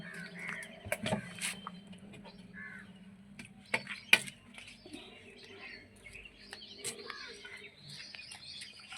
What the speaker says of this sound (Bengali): সকাল সকাল পাখির কুজন শোনা যাচ্ছে আকাশে বাতাসে